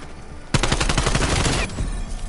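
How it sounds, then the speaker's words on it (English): Rapid pistol fire from a video game, a loud close run of about a dozen evenly spaced shots that stops abruptly after about a second. "He going crazy with that pistol."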